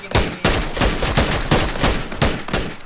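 Rapid video game gunfire in a driving and shooting match, with a steady stream of loud, close shots firing in quick bursts of roughly three to four cracks per second for the whole stretch.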